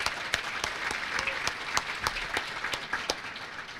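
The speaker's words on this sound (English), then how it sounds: "how about a round of applause for Katie?" Scattered applause from a student Emmy awards ceremony audience in the Upper Midwest, with sharp individual claps rising over a fairly thin, moderately distant clatter of hands throughout.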